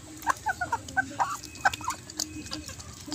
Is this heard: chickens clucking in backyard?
yes